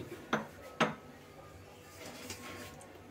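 A metal cooking pot is set onto a stove while pepper rasam is being made, giving two sharp, close clanks about half a second apart, followed by faint kitchen rustling.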